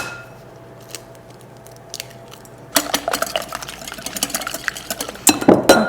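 Three eggs being whisked in a bowl in a home kitchen, a quiet start giving way to rapid, irregular clinking and scraping of utensil against bowl that grows busier toward the end.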